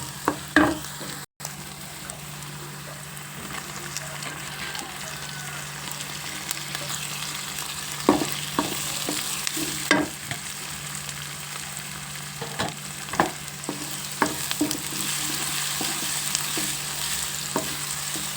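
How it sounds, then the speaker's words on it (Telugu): Tomatoes fry in a pan for potato curry, sizzling steadily while a spoon scrapes and stirs them in repeated sharp strokes, close and alone. "చూసారా టమాటా కూడా బాగా మగ్గుతుంది"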